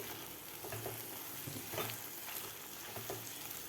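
Mixed vegetables sautéed in thick masala for restaurant-style veg Kolhapuri, a steady soft sizzle with several scraping spatula strokes against the pan, no talking.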